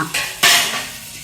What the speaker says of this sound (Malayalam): ആ ഇനി അടുത്ത പാത്രം പാത്രം അടുത്ത പാത്രം എടുത്ത് കഴുകണം